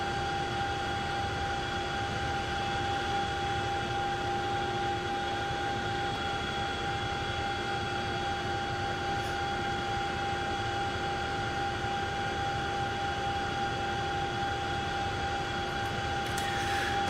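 Steady droning engine and rotor hum of a Chinook helicopter in the Flight Simulator video game, continuous and even throughout, with strong sustained tones and no speech.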